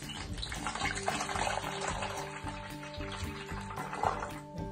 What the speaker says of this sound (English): I'm going to use my funnel to pour